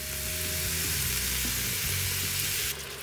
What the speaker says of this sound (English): we're going to add in our ground beef, get that browned